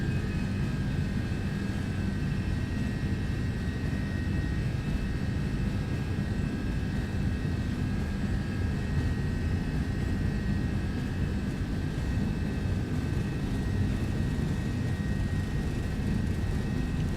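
An MD-11 airliner on its takeoff roll in the X-Plane 12 flight simulator, a steady loud engine roar with deep rumble that holds unbroken throughout, no voices.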